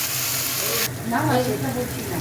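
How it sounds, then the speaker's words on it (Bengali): Fenugreek greens fry in a pan after eggplant, giving a steady close sizzle that brightens and thickens partway through as they hit the hot oil, with faint stirring. "বেগুন ভাজা হয়ে গেছে, আর এই মেথি শাক ভাজা হচ্ছে।"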